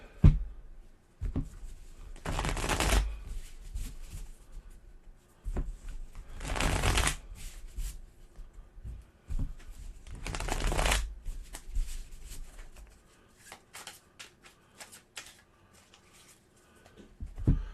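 Cards being shuffled in three loud riffling bursts spaced several seconds apart, with quieter handling and shuffling of cards in between.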